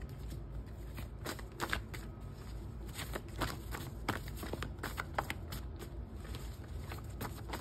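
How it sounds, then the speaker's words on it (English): A deck of tarot or oracle cards is shuffled by hand in a long, steady stream of riffling, flapping card noise, close and continuous, with no speech. "I'm gonna get a shuffle here first before we take any."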